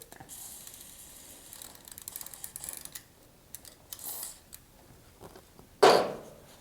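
The drive chain on a Monster Moto MM-X70 mini bike spins freely after lubing, giving a soft ratcheting, ticking clatter that comes and goes, ending in a brief sharp burst of noise.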